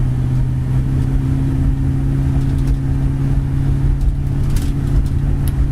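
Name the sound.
1968 Chevy pickup built 350 four-barrel engine running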